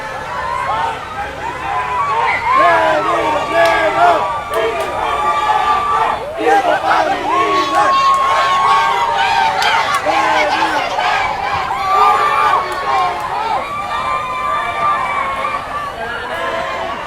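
A crowd gathered on a rooftop at Iloilo Science and Technology University cheers for Vice President Leni Robredo during her motorcade in Iloilo City, with loud, continuous overlapping shouts and calls carrying on without a break.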